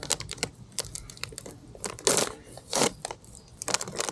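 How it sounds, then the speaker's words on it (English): A bag of chips being cut and torn open with a knife: close, sharp crinkling and crackling plastic in bursts, with a couple of louder ripping swells and no voices. "rip this bag of chips open."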